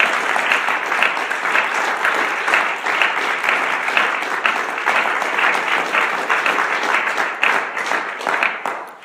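A church congregation claps loudly and continuously during a worship service. The applause is dense and sustained throughout, with faint voices mixed in.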